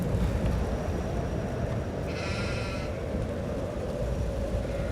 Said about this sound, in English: Damn sheep! Get out of the way!